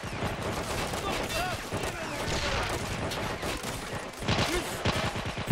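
Dense battle gunfire from a World War II strategy game, with rifle grenade launches amid a continuous rattle of shots and explosions, loud and unbroken throughout.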